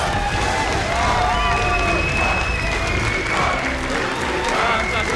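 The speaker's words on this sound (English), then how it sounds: "I'll let the crowd sing it for us." A large arena crowd at a League of Legends semifinal between SK and UOL cheers and sings together, a dense, loud, sustained roar with a faint melodic chant rising through it and no break across the stretch.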